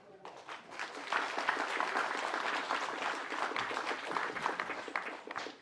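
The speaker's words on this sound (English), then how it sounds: "Give yourselves a round of applause for being the lifeblood of the Asian Australian volunteers." An audience at a volunteer celebration concert for Asian Australian volunteers breaks into sustained, dense applause that swells and holds steady for several seconds, with faint voices mixed in.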